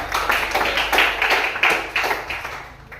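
Audience applause for a student group at a school presentation, a dense burst of many hands clapping close by that holds steady for three seconds, then thins and fades slightly toward the end.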